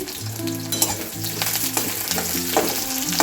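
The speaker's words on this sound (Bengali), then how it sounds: "এটা একটু ভেজে নিই" Medium-sized raw potato pieces frying in a pan, a loud dense sizzle with quick stirring scrapes and clatters throughout.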